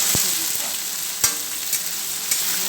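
Chopped pointed gourd fries in a pan over black cumin seed tempering, giving a continuous loud sizzle broken by several sharp knocks and scrapes as the pieces are stirred.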